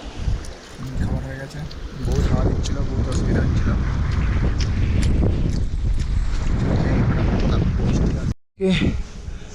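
Strong, steady wind buffets the microphone as a low roar throughout, during a cycling trip, with a voice talking over it and a brief dropout near the end.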